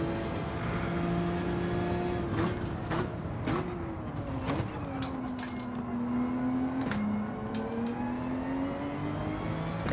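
A race car engine in the driving game Gran Turismo 7 on the Laguna Seca circuit in VR whines and shifts pitch, revving up, dropping on downshifts, then pulling again, steady and moderately loud.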